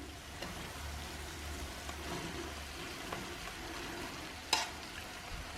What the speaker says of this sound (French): Je vais ajouter les penne.